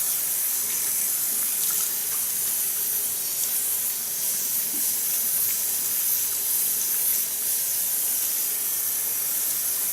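Tap water sprays steadily over hair at a salon wash basin during a hair color and haircut appointment, a continuous close hiss with no talk.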